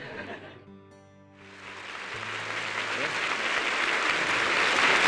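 An audience bursts into applause after a man's remark, clapping swelling from silence into a loud, sustained roar that keeps building, with someone talking at first and light laughter mixed in.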